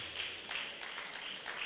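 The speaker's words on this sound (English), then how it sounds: "Please, a round of applause for him as he takes a seat here." At a book launch in Nigeria, the audience claps as a pharmacist takes his seat; a fairly faint, steady patter of many hands, heard alone without speech.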